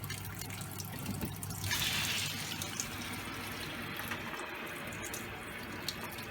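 Water streams from a reverse osmosis unit with a booster pump, giving a steady rushing hiss with faint trickling that briefly swells. No voices are present.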